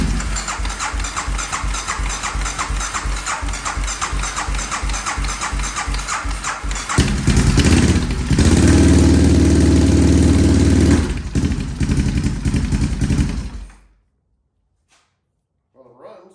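A Can-Am DS650 ATV engine cranks with a rapid rhythmic starter chug, catches and roars up loudly, then settles into a rough idle before cutting out to near silence.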